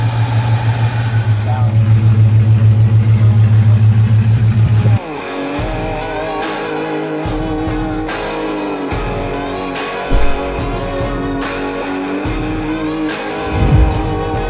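A truck engine idles high on its idle cam, a loud steady drone that drops abruptly to a lower, rougher idle midway, with a couple of short bumps later and people talking over it.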